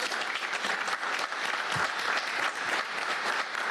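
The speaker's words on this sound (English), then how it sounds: "Ladies and gentlemen, let's give another round of applause for Mr. Jim Dent." An audience at a city commission meeting gives a loud, dense round of applause for a community golf figure, sustained and even throughout.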